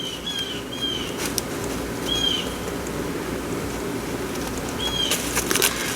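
Several short bird chirps ring out at a distance over steady outdoor wind rumble, scattered across the clip.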